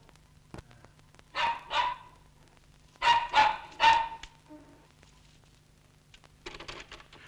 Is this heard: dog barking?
yes